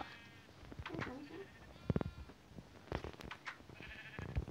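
Sheep in the video game Minecraft bleat several times in short calls spread across the scene, fairly close, with game sounds and a little talk mixed in.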